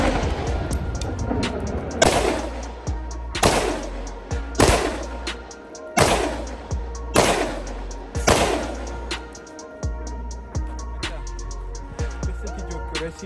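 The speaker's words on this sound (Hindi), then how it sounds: "इस पर भी जो है दूसरा मैगजीन चलाते हैं तो आपको दिखाते हैं।" A Zastava M57 .30 bore pistol fires through a magazine at a range, about eight loud, sharp shots spaced roughly a second apart, each with a ringing decay.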